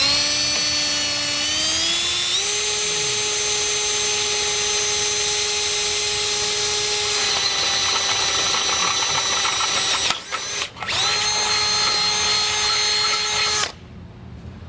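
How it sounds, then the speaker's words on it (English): A power drill with a 17/32 bit bores holes through the frame of a 2020 Ford F-150 while fitting a Blue Ox base plate. It gives a loud, steady whine that rises early, breaks off briefly near the end, then stops abruptly. "We're going to be drilling that out to run our new hardware through."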